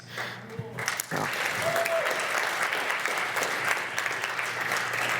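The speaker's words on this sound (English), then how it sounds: "Wasn't a clapping moment, wasn't intended, but I'll take it." Audience applause at a real estate investing talk, starting after a brief voice and building into steady, sustained clapping from a seated crowd that fills the room.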